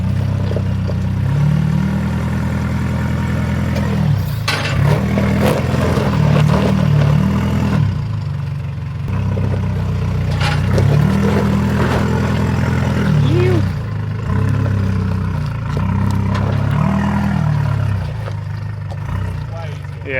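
A budget 4WD engine revs and labours in repeated surges as the vehicle climbs a rock step, close by and steady, with people talking over the engine noise.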